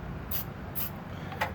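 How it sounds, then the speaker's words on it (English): Short hissing bursts of spray paint are aimed at the frame of a 1999 Chevy Silverado under frame repair, three quick spurts in a row over a steady background hum, close and fairly faint. "Just take some spray paint."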